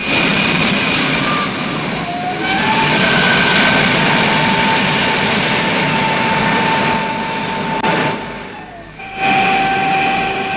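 A Fiat G.91 jet fighter engine runs steadily with a loud, broad roar and a high whine whose pitch shifts slightly. The roar dips briefly near the end, then resumes.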